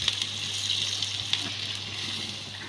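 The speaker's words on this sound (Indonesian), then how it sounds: "kita tambahkan air" Water pours steadily into spice paste frying with bay leaves in a pan, giving a continuous gushing hiss with faint sizzling underneath and no voices.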